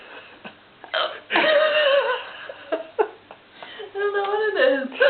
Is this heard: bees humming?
no